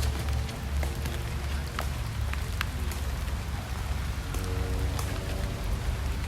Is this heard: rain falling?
yes